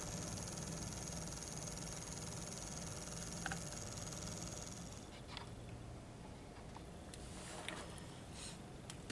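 The small motor of an n-gauge Atlas SD 45 model locomotive runs continuously, a faint, steady whirring hum that thins slightly partway through, with a few soft clicks.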